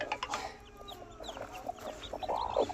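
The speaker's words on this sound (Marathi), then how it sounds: "ही प्युअर असेलची कोंबडी आहे" A pure Aseel hen with chicks clucking close by, a run of short clucks and soft calls, louder toward the end, with faint bird chirps in the background.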